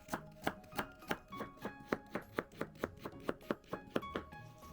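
A knife chopping a peeled carrot into quarter-rounds on a cutting board, about fifteen crisp evenly spaced strokes in a steady rhythm, close and alone.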